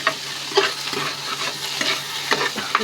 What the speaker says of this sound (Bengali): শাকটা আমার হয়ে আসছে, অনেকটু নাড়াচাড়া করে নামিয়ে দিব।